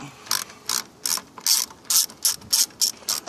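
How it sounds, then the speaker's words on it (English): A ratchet with a 10mm socket loosens a hose clamp on an air intake boot of a 2002-2006 Lexus ES300/ES330 or Toyota Camry, giving about nine quick, bright clicking bursts in a steady rhythm, close and alone. "Take that 10mm socket again, and as you can see, there's another clamp on this other side with the boot here. We'll loosen that one up."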